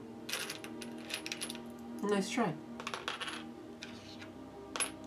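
Coins dropping onto a table during a Near and Far board game, a quick metallic clatter of several coins tumbling together, close and clear, with people talking around it.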